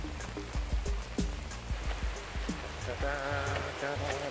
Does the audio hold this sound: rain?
yes